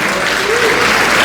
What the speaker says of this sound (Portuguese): Quem crê nisso, dá uma salva de palmas para Jesus.